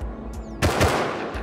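Gunfire in the survival game Rust: a burst of rapid automatic shots erupts sharply after a brief lull, loud and close, set against a constant low background hum.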